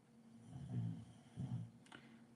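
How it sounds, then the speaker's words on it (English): A dog snores softly in the background, giving two slow, faint snoring breaths about a second apart in an otherwise quiet room. "My dog's snoring in the background."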